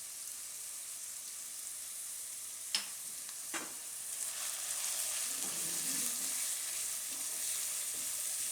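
Watermelon rind sambharo with salt and turmeric fries in oil, a steady soft sizzle throughout with a couple of brief clinks from stirring and a faint bubbling swell midway.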